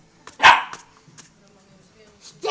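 An Akita Inu dog barks on command, one loud close bark followed by a quieter yip and another bark starting at the end, with people speaking softly between them.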